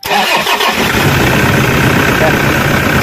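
A Toyota Innova engine, just repaired for a noisy idler bearing, cranks briefly and catches, then settles into a steady, loud idle rumble close by, with a voice over the start.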